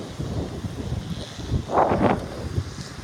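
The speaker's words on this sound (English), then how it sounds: "Sorry about the wind if you can hear the wind." Wind gusts buffet the microphone outdoors on a cool day, a steady low rumble that swells louder around the middle and stays broad and noisy throughout, with no talk.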